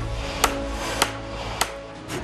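Three evenly spaced sharp knocks of a hammer driving a wooden wedge into traditional hanok joinery, each a crisp impact over a steady background hum.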